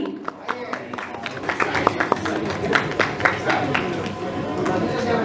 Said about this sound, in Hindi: जोरदार तालियां सीडी शेट्टी जी